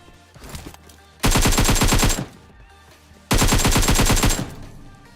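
An AKM rifle in PUBG Mobile fires two loud full-auto bursts of about ten rapid shots each, separated by a short pause, close and sharp over faint background game sound.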